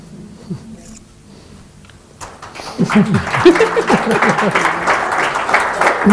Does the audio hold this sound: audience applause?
yes